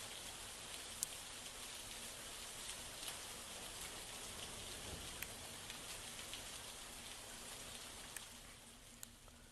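Steady, soft rain falls over green countryside near Bindusara dam, making an even hiss with occasional sharper drop ticks throughout and no voices.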